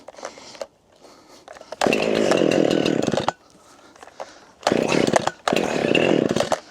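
A chainsaw with freshly sharpened blades, used for woods cleanup and firewood, runs in loud bursts: two long revving stretches with quieter idling between, close by.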